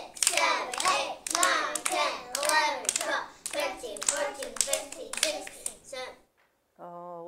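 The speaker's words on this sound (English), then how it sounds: "Table two, clap this many times." Children at a classroom table clap their hands in a counting exercise, a series of sharp, evenly spaced claps in a bright room, with a voice and an adult voice heard near the end.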